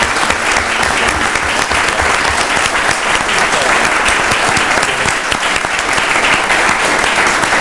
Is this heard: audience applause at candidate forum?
yes